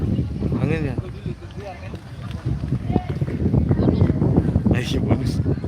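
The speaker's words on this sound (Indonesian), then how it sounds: "Angin lagi besar" Strong wind blows over open water at an outdoor slingshot competition, a steady broadband rush buffeting the microphone throughout, with people talking over it.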